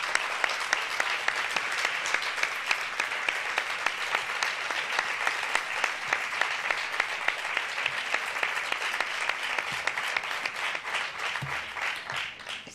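An audience at a Pontevedra provincial equality department event gives a dense, sustained round of applause in tribute to a colleague, thick and even for nearly thirteen seconds before easing slightly at the end.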